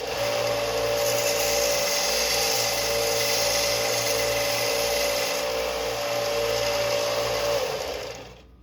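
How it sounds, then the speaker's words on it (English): A belt sander runs continuously and loudly close by as the back of a turned curly maple wand is sanded, holding a steady whine for several seconds before spinning down at the end, with no talking. "So now I'm going to take it over to my belt sander. I'm just going to give it a slight run on the back."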